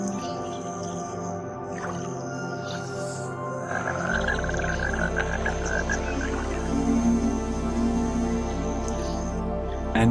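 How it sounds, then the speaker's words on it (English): Frogs croaking in a wetland, a dense chorus of repeated calls that swells louder partway through, layered over a steady low hum of the watery habitat. "the vocal frog also provides this watery habitat with its characteristic soundscape"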